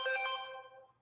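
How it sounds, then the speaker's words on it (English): A single short telephone ring chimes out clearly with a bright, tonal burst that decays over about a second, with no voices over it. "Not while the phone is ringing."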